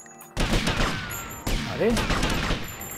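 Gunfire in the video game GTA Vice City: loud bursts of shots crackle across the clip, starting abruptly after a short quiet moment and surging again midway, with someone speaking briefly over the shooting.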